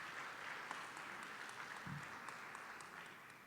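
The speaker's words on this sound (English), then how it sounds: "So give her a round of applause." Applause from the audience at a conference opening plenary session, a faint, scattered patter of clapping heard from a distance, with a soft low thump partway through and no talking.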